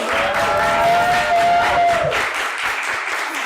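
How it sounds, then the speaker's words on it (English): Audience applause at a Pride learning-series panel on queer mental health, a dense, loud patter of clapping from a crowd, with a brief sustained tone early on before the clapping thins slightly toward the end. "Give a round of applause for our amazing"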